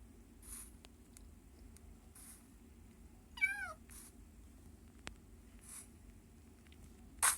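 A cat gives a single clear, rising-and-falling meow midway, fairly close, over a low steady background hum with a few faint ticks and rustles and no talking.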